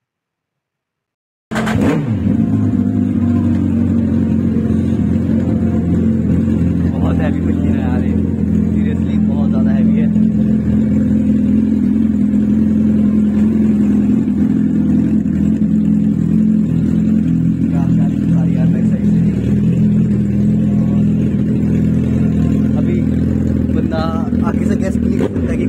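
A Suzuki Hayabusa motorcycle engine starts after a brief silence, then idles and revs loudly and close up, a sustained rough drone with clattering bursts throughout.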